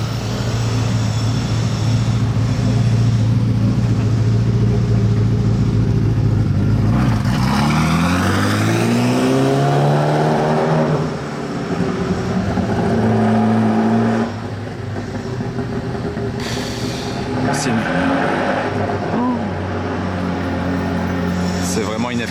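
A Ferrari F40 LM race car engine idles loudly, then revs up in rising sweeps before settling back to a rough, throbbing idle. People talk over it.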